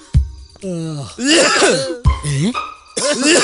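In a comedy film scene, a man coughs and clears his throat in a few loud, close, rasping bursts. Strained groaning vocal sounds run between the coughs.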